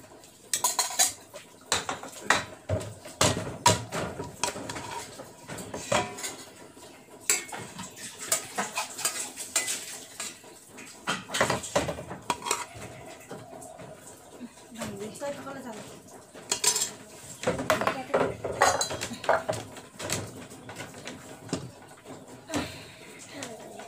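Rice being served onto plates at a home meal, with spoons scraping and ceramic and metal dishes clinking in irregular bursts, close by, while people chat throughout.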